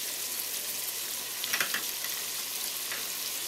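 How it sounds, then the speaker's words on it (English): Meat sizzles and fries steadily in a hot pan with oil and a pinch of salt for stuffed peppers, a soft, even crackle with a few brighter pops midway and no voices. "So it's frying up."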